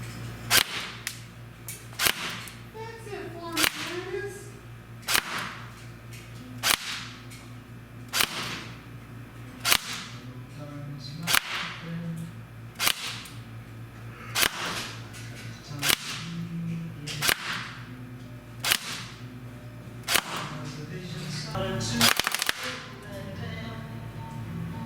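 A Cybergun Sig 556 AEG airsoft rifle fires single shots at a chrono range, sharp snapping cracks spaced about every second or two in a steady run, close and loud over faint ambient hum.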